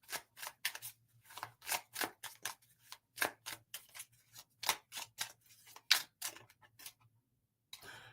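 An angel-card deck being shuffled, a run of crisp riffling and flicking bursts in quick irregular succession, close and fairly quiet over a faint steady hum, with no talking.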